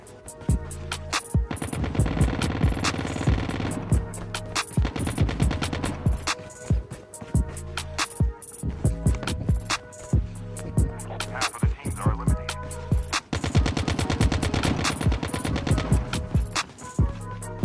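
Rapid automatic gunfire from the Call of Duty Mobile battle royale game, solo against squads, with PPSh or Kilo rifles: dense, loud bursts of shots rattle almost nonstop, broken by brief pauses and scattered single cracks.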